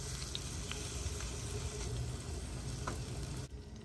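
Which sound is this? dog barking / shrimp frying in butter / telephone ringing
shrimp frying in butter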